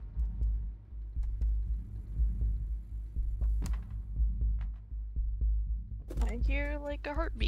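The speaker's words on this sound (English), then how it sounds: "I hear like a heartbeat." Low, steady throbbing pulse like a heartbeat, thumping under a faint hum, with a brief animal-like vocal burst near the end.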